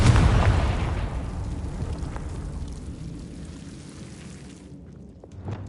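A Confringo fire spell bursts in Hogwarts Legacy with a loud, close boom, then trails off into a long crackling rumble that fades over several seconds, ending with a smaller thud.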